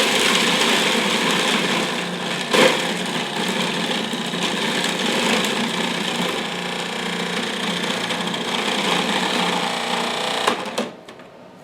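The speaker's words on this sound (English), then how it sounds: "you'll kind of know because the food processor will actually stop spinning" A food processor grinding raw vegan nacho ingredients, a loud steady motor whir with a busy churning texture, running continuously before cutting off near the end.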